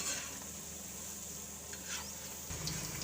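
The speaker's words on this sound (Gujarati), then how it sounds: "આપણે પલટાવીને સરસથી ક્રિસ્પી થાય ત્યાં લગી આને તળી લેવું" Spinach chakri frying in groundnut oil gives a steady, soft sizzle with faint stirring scrapes, continuous and close, with a slight shift near the end.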